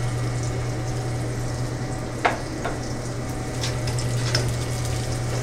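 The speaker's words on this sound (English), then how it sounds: "I always want to hear that nice sizzle as it hits the pan" Pork cubes searing seared-side down in a hot pan, a steady close sizzle with a couple of brief pops and spatters over a low background hum.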